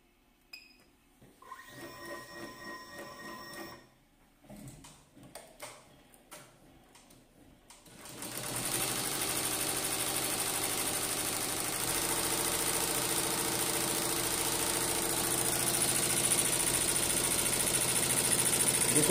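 Embroidery machine with a large aluminium pantograph frame stitching a fill at about 850 stitches per minute, a dense steady mechanical chatter starting after several seconds of scattered clicks and setup noises, continuing loud and constant to the end.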